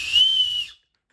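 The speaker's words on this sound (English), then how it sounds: "we got an emergency whistle" A single short, loud, shrill blast from a small plastic emergency whistle out of a budget survival kit, cutting off cleanly into silence.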